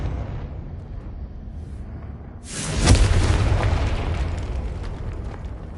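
A Confringo fire spell bursts in a Hogwarts video game, a sudden loud boom that flares up and then rumbles and crackles as it slowly dies away, with no voices.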